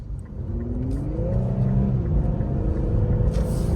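A 2024 Infiniti Q50 sedan accelerates on the road, its engine note climbing and swelling steadily from inside the cabin, with no talk.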